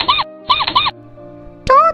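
A storyteller reading aloud imitates a mouse with her voice, giving two quick bursts of high squeaks, a short pause, then one more rising squeak.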